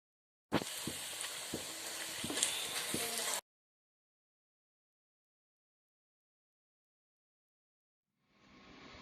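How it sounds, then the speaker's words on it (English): Onions fry in a pan until crispy and golden, giving a close, bright sizzle with a few sharp pops for about three seconds before silence, then a fainter sizzle returns near the end. "we're going to keep frying until they turn crispy and golden brown"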